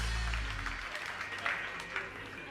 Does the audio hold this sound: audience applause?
yes